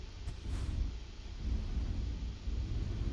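A low, steady truck engine rumble from the video game American Truck Simulator drones quietly throughout, deep and muffled, with no voices over it.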